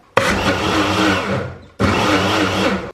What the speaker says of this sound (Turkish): Sonra blenderla tekrar karıştıracağım.